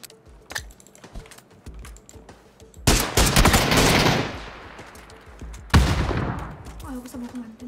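Rapid bursts of video game gunfire, with sharp cracks scattered throughout and two loud, dense volleys, heard alongside keyboard clatter and occasional speech.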